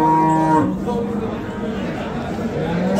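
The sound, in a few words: cow mooing at livestock market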